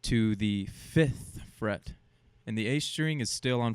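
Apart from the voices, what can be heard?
No everyday noises stand out.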